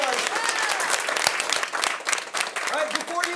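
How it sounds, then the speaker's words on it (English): A room full of people gives a round of applause at a teaching and learning committee session, steady dense clapping throughout, with brief voices mixed in. "let's give a round of applause"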